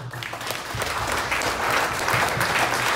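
A church congregation breaks into steady, enthusiastic applause, many hands clapping together at close range and swelling slightly over three seconds.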